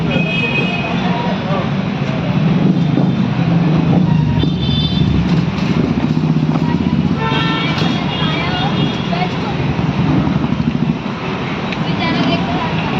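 Traffic jam at the closed Mothagaon railway crossing in Dombivli, with a loud, steady roar of idling and moving trucks and cars and occasional horn toots, while people talk over it.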